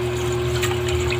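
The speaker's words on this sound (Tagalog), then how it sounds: "Ayan, may lalagyan ko na siya ng tubig." Water pours steadily into a cooking pot holding chicken pieces for boiling, a continuous close splashing rush over a low electrical hum.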